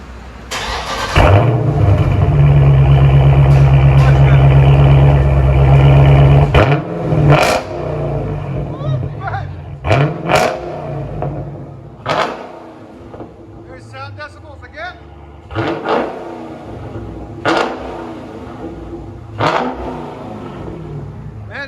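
From inside the cabin, a Dodge Challenger engine with a Flowmaster exhaust roars loud and steady for several seconds, then drops to a lower rumble, with sharp thumps and knocks and a voice talking over it.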